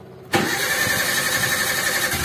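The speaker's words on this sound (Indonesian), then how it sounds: "Kita hidupkan mesinnya" A Daihatsu Zebra car engine starts abruptly after a brief quiet moment and settles at once into a loud, steady, slightly rough idle close by.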